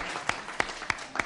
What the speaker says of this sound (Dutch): Mensen, ja, applaus.